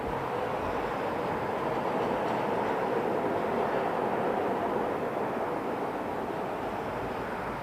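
Steady, moderately distant jet roar from a Swiss Airbus A220 airliner at an airport, a continuous droning howl with no pauses and slight wind rumble beneath.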